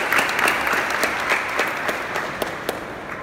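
Audience applause for a group of children at a school fundraising food sale, steady clapping from many hands filling the room throughout, with no talking over it.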